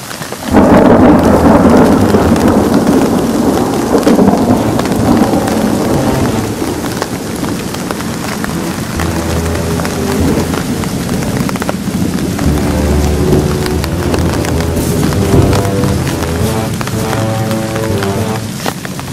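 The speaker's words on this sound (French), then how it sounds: "Bon, c'est qu'un orage, ça va pas durer longtemps." A thunderstorm with heavy rain pouring steadily and a loud rumble of thunder rolling through, then lingering low rumbles under the constant downpour, close and loud throughout.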